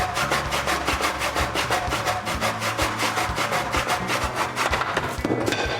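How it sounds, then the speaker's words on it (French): A stiff backsaw cutting a wooden batten held in a miter box, with rapid, even back-and-forth sawing strokes that sound loud and close and carry on without a break. "on utilise une scie très rigide, ça s'appelle une scie à dos, pour qu'elle coupe bien droit"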